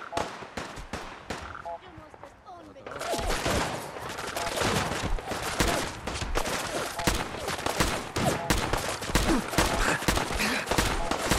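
Enemy gunfire in Fallout 4 rattles in dense, rapid bursts, sparse at first and then nearly continuous and loud after the first few seconds, with faint voices mixed in.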